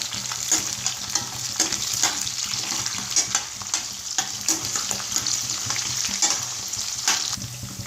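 Curry leaves go into onion and garlic frying until brown for tomato rice, giving a steady, close oil sizzle with scraping stirs throughout and no talking.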